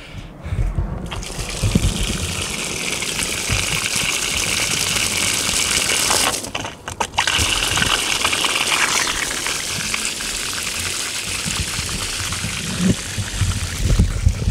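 Water gushes into a pool being filled, a loud, steady rushing stream heard alone with a brief dip partway through.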